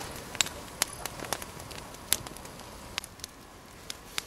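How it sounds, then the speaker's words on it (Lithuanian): A Swedish torch, a split log burning as a fire outdoors, crackles with sharp irregular pops and snaps scattered over a quiet, faint hiss, close by and with no talking. "laužas taip jau gerai įsidegas ir dar labai taip daug malkų jame lieka"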